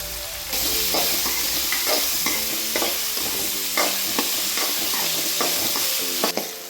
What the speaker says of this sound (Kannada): ಇವಾಗ ಇದನ್ನು ಫ್ರೈ ಆಗಲಿ.